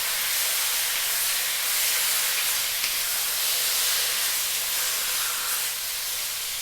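Pork sizzles steadily in a hot, dry pan or wok with no oil added, a continuous bright hiss that stays loud and even throughout with no talking.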